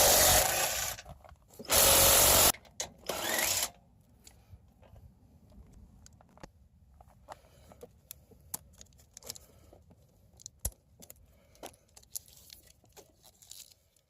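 A power tool loosening the three bolts on a Lippert electric tongue jack fitted to a trailer. It gives three loud, harsh bursts in quick succession, followed by scattered metallic clicks and clanks as parts are handled nearby.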